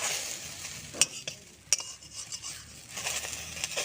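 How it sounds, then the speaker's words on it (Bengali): A metal spatula scrapes and taps around the edges of a palm cake frying in a pan, giving sharp clinks and scraping over a soft sizzle, close and fairly quiet. "খুন্তি দিয়ে ধারগুলো এইভাবে ছাড়িয়ে নেব।"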